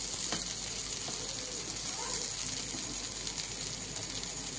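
Mashed pumpkin paste cooks in oil in a pan, a soft steady sizzle up close with faint scraping clicks of stirring.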